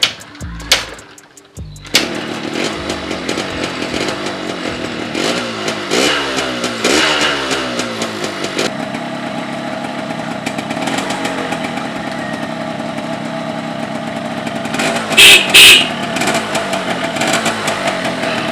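A 2008 Yamaha RX-King two-stroke motorcycle engine revs up close and loud, its pitch rising and falling in repeated blips before holding a raspy idle, with a couple of sharper bursts near the end.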